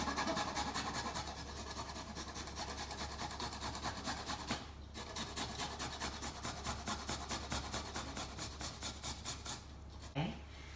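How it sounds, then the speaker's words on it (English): Garlic being grated for a Japanese-style potato salad, producing a close, quick rhythmic series of scraping rasps that pause briefly midway and then resume. "I'm gonna grate garlic in here."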